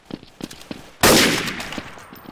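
Pistol fire in the video game Counter-Strike: Source, a single loud close shot bursting out after a run of light clicks and thumps, with a short ringing tail.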